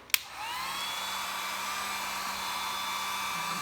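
A heat gun clicks on and blows a steady, loud whirring hiss while heating a plastic car bumper cover, running close and alone for a few seconds.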